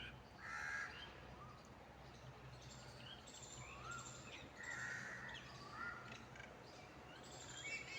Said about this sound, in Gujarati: કાબર, ખિસકોલી, કબૂતર આ બધા અવાજ